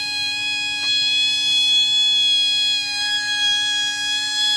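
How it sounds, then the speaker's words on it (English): Siren horn of an Apex F-901 fire alarm with a small motor spinning inside, a steady high-pitched wail held throughout at constant loudness, with one faint click near the start. "This little motor spins inside the horn."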